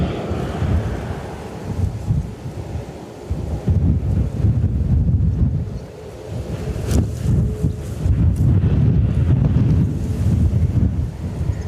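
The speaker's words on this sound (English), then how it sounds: "Nice bit of wind rising there." Strong gusts at Dublin Airport roar steadily across the microphone, rising and falling in loud buffeting waves with a low rumble underneath and no voices.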